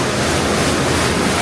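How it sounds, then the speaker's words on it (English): Pumped water at a Kansas State Fair dark ride propels the boat along the channel, giving a loud, steady rushing wash that stays close and continuous with no talk over it. "All this water being pumped out here, be propelling our boat."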